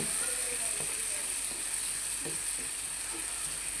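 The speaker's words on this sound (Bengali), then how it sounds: "মশলাটাকে ভালোভাবে লাল করে নেব।" Spice masala sizzling steadily in a hot pan for a Bengali hilsa fish curry, a continuous bright frying hiss with a few soft stirring scrapes, close and constant, no talking.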